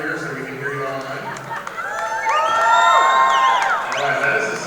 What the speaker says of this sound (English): And I got a big shout out from our crowd over here so we can hear you online.